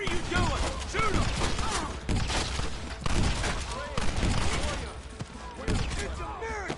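Bursts of rifle and pistol fire in a Western shootout from the Red Dead video game featuring Marston, dense and close, under shouted voices throughout.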